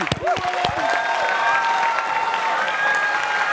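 An audience claps for the singer at a music show, a dense, fairly loud burst of applause with a few tonal glides over it near the start, continuing evenly to the end.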